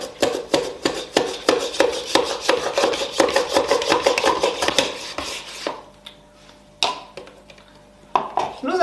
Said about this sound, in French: Nous avons donc fini de trancher les pommes de terre, donc assez fines